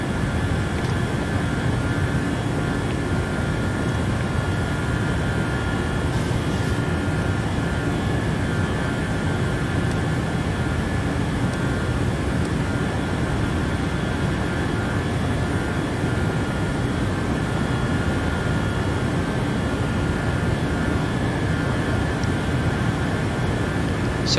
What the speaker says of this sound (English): So we can continue climb up to flight level 290, our cruising altitude 290.